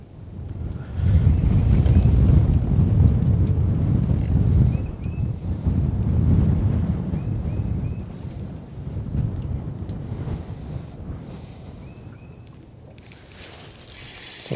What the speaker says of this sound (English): Now the wind's blowing up lake